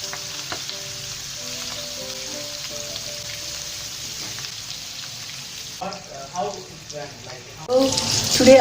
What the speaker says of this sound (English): So it's nicely frying now.